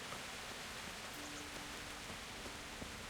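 Steady rain falls in Kingdom Come: Deliverance, a dense, even hiss of drops with no break and no voices.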